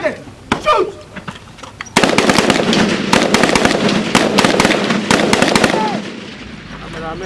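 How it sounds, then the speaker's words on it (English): Rapid military gunfire from an army tactical assault demonstration on an enemy defensive position: loud bursts and volleys of shots crackling in dense succession, with scattered single reports at first, shouting voices heard between them. "The final exercise is a demonstration of tactical maneuver and assault of the enemy's defensive position under effective firepower."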